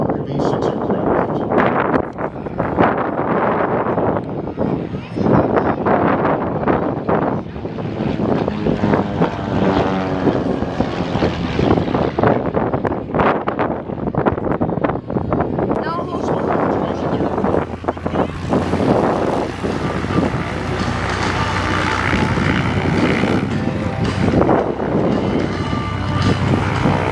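Propeller engine of Paul Hunter's Van's RV-6 aircraft performing at an air show, a loud continuous drone with rising and falling pitch as it passes, mixed with wind noise and crowd or announcer voices throughout.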